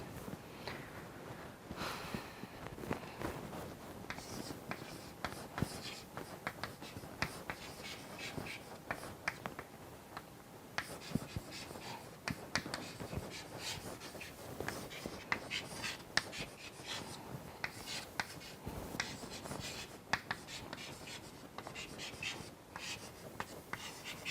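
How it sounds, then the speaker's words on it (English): Chalk or marker scratching on a lecture-hall board, a quiet, continuous series of taps and scrapes in uneven rhythm over a low room hum. "Let me write it on the board to make it clear."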